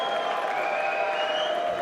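A live esports arena crowd of Optic Gaming fans at a Call of Duty event cheers and applauds in a steady, loud roar with a high ringing tone over it.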